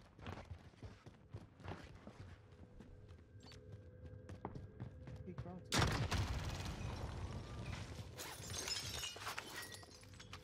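In the Warzone shooter game, faint footsteps and scattered shots come first, then a loud RPG blast strikes inside a building, followed by sustained crackling gunfire and debris.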